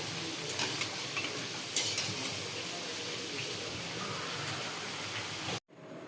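Potatoes frying and being stirred until browned for chicken curry, a continuous close sizzle with scraping stir sounds and a couple of brighter clatters, ending abruptly in near silence before a faint tail.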